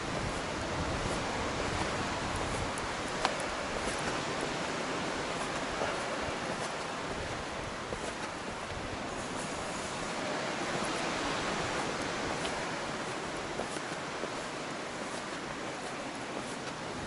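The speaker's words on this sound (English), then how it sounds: "the gentle waves lapping on the beach" Gentle waves on a beach at Peacehaven, a steady, continuous wash of surf with no distinct breaks, moderately loud and unbroken throughout.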